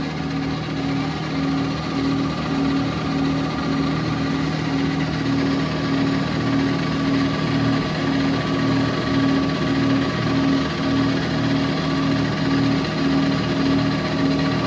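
A lathe peck-drills a drum spacer, giving a steady, loud mechanical whir with a constant humming tone that runs unbroken throughout, with no talking.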